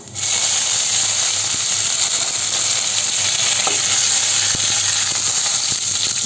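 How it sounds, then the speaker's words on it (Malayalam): Cumin seeds and curry leaves fry in hot oil for tomato rice, producing a loud, unbroken sizzle close by, dotted with small clicks and taps of stirring. "കാൽ ടേബിൾ സ്പൂണോളം ചെറിയ ജീരകം ചേർത്ത് കൊടുക്കാം കുറച്ച് വേപ്പില ചേർത്ത് കൊടുക്കാം"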